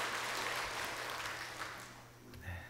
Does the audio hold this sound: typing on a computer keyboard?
no